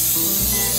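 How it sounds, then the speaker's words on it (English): Coconut oil cooking spray hisses onto a half sheet tray in one short, close, continuous burst lasting under a second, with no talking. "we're ready now to spray our half sheet tray with some coconut oil spray"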